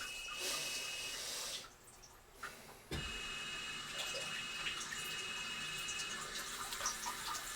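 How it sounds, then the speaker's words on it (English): A bidet spray of water runs steadily, a faint hiss that cuts off briefly, then resumes with small splashes and drips nearby. "I'm going to shut that off and click on the bidet and see what the difference is."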